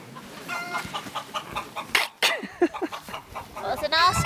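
A person imitates a chicken, producing a quick series of loud, close clucking and squawking calls in an outdoor mountain setting near 3,600 meters on Kilimanjaro, with other voices briefly around.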